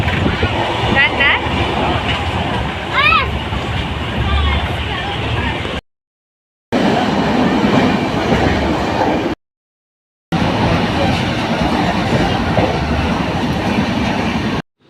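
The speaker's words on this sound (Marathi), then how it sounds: "तर हा पहिलाच ट्रेनचा प्रवास" Passenger train rolling on rails in a carriage near Mumbai, a steady loud rumble of wheels with clattering, a few brief squeals, and two short gaps of silence; people talk over the noise.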